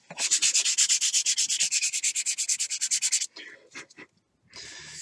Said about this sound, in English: Got some excess material on top of the lawn coat, so we're going to sand that off.